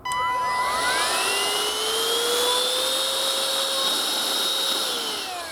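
Maltec cordless upright vacuum cleaner motor running on its own, a loud high-pitched whine that spins up quickly, holds steady for several seconds, then begins to wind down.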